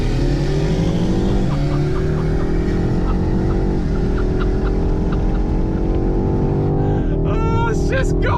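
A car accelerates hard from a rolling race start, its engine note climbing steeply and dropping back at each upshift, three quick gear changes in close succession, loud and near.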